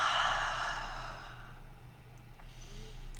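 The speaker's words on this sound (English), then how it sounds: "Taking some deep breaths." Slow, deep breaths during a guided meditation, a long airy exhale fading over a couple of seconds, then quieter soft breathing close to the microphone.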